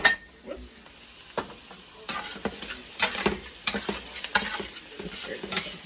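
Mushrooms and onions cook in a pan for a Johnny Marzetti casserole, a soft steady sizzle broken by repeated scraping and stirring strokes of a utensil against the pan, close up, with no talking.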